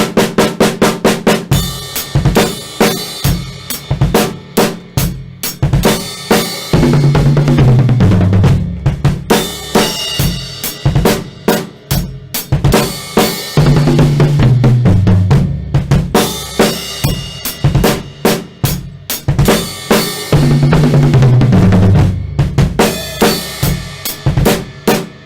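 A drum kit plays the fill from a song slowly, with loud, close, rapid repeated hits and crashes in a driving rhythm, heard alone without talk.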